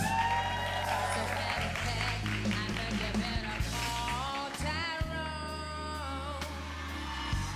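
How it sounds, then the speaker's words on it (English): A live podcast audience in Oakland, California applauds in a sustained wash of clapping, while a voice talks over it and faint music plays underneath. "Give yourselves a round of applause."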